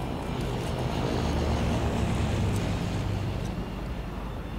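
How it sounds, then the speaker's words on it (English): A propeller airplane flies overhead in the video game Left 4 Dead 2, producing a loud, continuous droning roar that stays steady for several seconds. "That plane's headed right for the airport."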